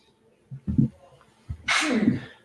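One person sneezes close by: a short intake of breath followed by a loud, sharp burst, with faint sounds in the background.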